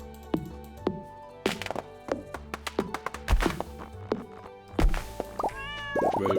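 Tree being felled with an axe in Stardew Valley: a steady series of sharp wooden thunks in an uneven rhythm, close and loud, ending in a heavier crash and a rising sparkle.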